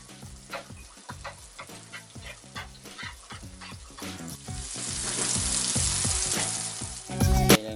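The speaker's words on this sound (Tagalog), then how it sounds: "Kailangan natin lumambot yung sibuyas at magisa ng maayos" Onions sautéing in a pan, a sizzle that swells and grows louder, mixed with clattering stirring knocks and a rhythmic tonal pattern in the background.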